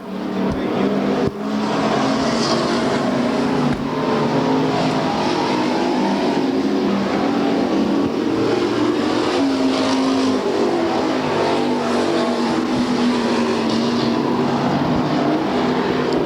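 Race cars lap an oval track at Bakersfield in a 1995 Budweiser Racing Series points race, a loud, continuous, dense roar of engines that swells and fades slightly as the cars circulate.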